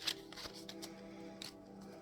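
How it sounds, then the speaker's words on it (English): Kipper tarot cards are shuffled by hand up close, a series of quick soft riffling bursts at an uneven rhythm, quiet and with no talking. "I'm going to try to make sure you can see I shuffle here."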